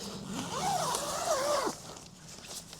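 A tent door zipper pulled in one long continuous stroke, close and clear, rising in pitch before stopping abruptly.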